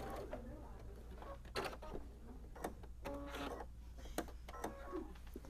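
A sewing machine back stitches the binding on a holiday kitchen towel, giving soft, close mechanical whirring in short bursts with a few sharper clicks over a steady low hum.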